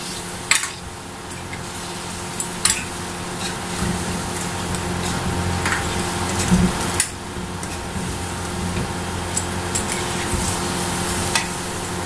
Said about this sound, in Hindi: थोड़ी सी आपने इस मसाले में चिकन को फ्राई करना है